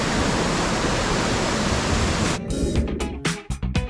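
River water rushing past a riverside spot, a loud, steady broadband wash that breaks up near the end into a few sharp knocks and thumps, with no talking.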